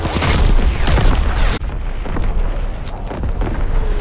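Heavy artillery shells from a battleship's primary battery blast in a World War II video game, a dense rumbling barrage of booms that drops off sharply midway and then resumes as a lower, rolling roar.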